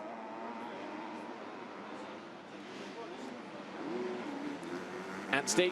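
Kawasaki and Suzuki motocross bikes in the 2013 MXGP of Bulgaria MX2 race drone steadily at a distance beneath a commentator's voice, swelling into a louder, sharper rev near the end.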